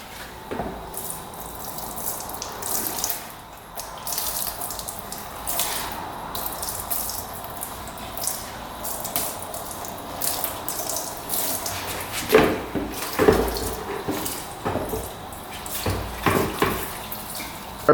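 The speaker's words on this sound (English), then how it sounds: "Let's drain out this gas tank here." Gasoline draining from the gas tank of a quad that sat unused for years: a steady trickling, splashing liquid stream, close and fairly even, with brief louder gurgles and drips toward the end.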